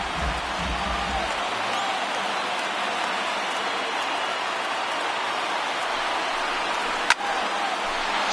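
Stadium crowd of over 38,000 on its feet cheering in a Phillies baseball video game, a steady broad roar of noise filling the whole stretch with one brief sharp crack near the end.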